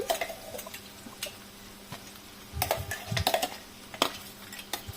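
A spoon stirs ground onion masala paste into okra pieces in a pan, making close, irregular clicks and scrapes against the metal with a few soft wet taps, without voices.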